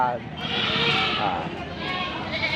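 Boer goats bleating at a livestock market in the Philippines, tired after transport; a dense crowd of overlapping bleats fills the pen, loud and continuous, with people talking underneath.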